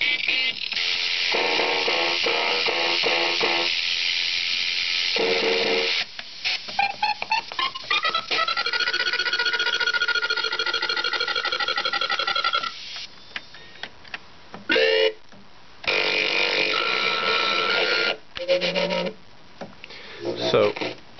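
Yamaha CS40M analog synthesizer presets firing, likely driven by the LFO: pulsing, tonal synth notes with sweeping pitch and abrupt stops, some ticking and rasping textures, recorded lo-fi and fairly loud.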